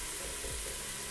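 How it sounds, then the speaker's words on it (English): Chopped bacon strips frying in a soup pot, a faint but continuous sizzle and crackle with no talking. "we're gonna cook our bacon first"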